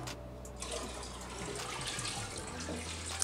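Tap water runs steadily into a container while aquarium stones are washed for a new flowerhorn tank, a continuous close splashing hiss.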